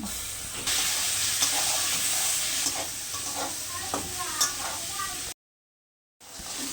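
Pieces of raw green mango frying in hot oil after onion and garlic, steady sizzling with occasional stirring clinks and scrapes, continuous and close, then a brief dropout before the sizzle resumes.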